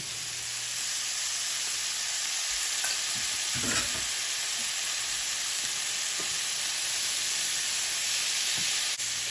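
Rinsed and drained black beans fry in a hot pan with a loud, steady hiss of sizzling that runs throughout, close by, with a few soft scrapes from stirring.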